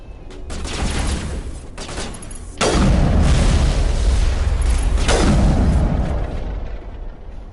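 A rocket launcher explosion in Mass Effect: a loud, deep boom hits partway through, followed by rumbling blasts and gunfire that stay heavy and sustained before tailing off.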